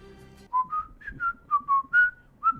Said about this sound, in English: it's like whistling and drums